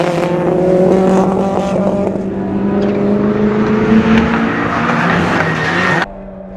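Toyota 86 race cars in Improved Production racing at Symmons Plains circuit: loud, close engines holding a steady high drone that rises as the cars accelerate, with brief tyre squeal before the sound drops away.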